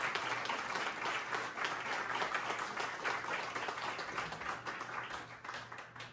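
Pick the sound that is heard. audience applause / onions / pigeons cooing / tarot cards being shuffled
audience applause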